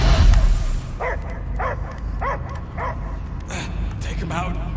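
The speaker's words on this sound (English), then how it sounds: "I hear only barking." In the Guardians of the Galaxy video game, a dog barks in a regular series of sharp, evenly spaced barks, close and loud, over a low rumbling game ambience.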